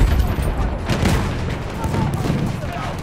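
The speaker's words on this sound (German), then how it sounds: "Feindliches MG gesichtet!" Machine gun fire rattles through the dense battle noise of the Battlefield 1 video game. The shooting forms a loud, continuous barrage layered with booms and rumbling across the whole stretch, and voices may be mixed in.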